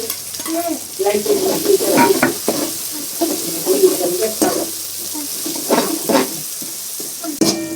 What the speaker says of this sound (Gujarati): હવે એમાં આપણે વટાણા તૈયાર કર્યા હતા ને મસાલા વાળા એ નાખી દઈએ